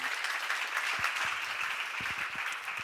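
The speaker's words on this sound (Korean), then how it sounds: "박수로 하나 둘 셋." Congregational applause at a Korean church seminar on First Corinthians, a steady broadband wash of clapping filling the room, with a few sharper individual claps standing out near the end.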